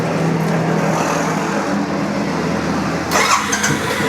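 A 2018 gunmetal grey Yamaha FZ-S with double disc brakes, a single-owner BS4 motorcycle, starts and settles into a steady mid-pitched idle, close and loud with no talk, the engine note shifting slightly near the end.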